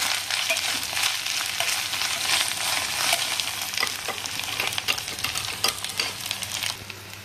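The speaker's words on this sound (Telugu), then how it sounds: "దీంట్లో కాస్త పచ్చిమిరపకాయ పేస్ట్ వేస్తున్నా." Green chili paste frying in a hot pan while banana flower curry is being made, giving a steady close sizzle with bright crackle and occasional spoon stirs throughout, with no talking.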